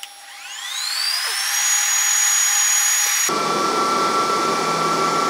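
A Two Trees TS2 10-watt diode laser runs a cutting pass: a steady whine that climbs in pitch over the first second, then switches abruptly to a broader, rougher hum with a steady tone, near and continuous, with no talk.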